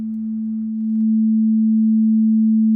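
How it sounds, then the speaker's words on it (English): A steady, pure sine wave tone plays alone, smooth and constant, during a live online homework-help session comparing waveforms. "This is a sine wave, which sine waves sound softer."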